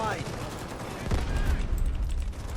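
Rapid bursts of video game gunfire in Delta Force crackle in quick succession, loud and sustained, with a muffled explosion-like thump partway through.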